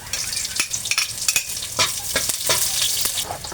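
Garlic sautéing in a pan for palabok, a busy crackling sizzle with frequent stirring scrapes close up.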